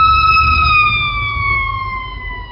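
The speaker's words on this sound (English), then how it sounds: "And here comes the fire truck." A fire truck siren passes close by, loud and steady, its wailing tone gliding slowly downward over a low rumble of traffic.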